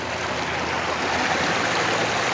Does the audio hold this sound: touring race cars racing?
no